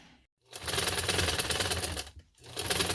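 A sewing machine stitches organza lace strips in two close, loud bursts of rapid, even needle chatter, separated by a short pause and preceded by quiet.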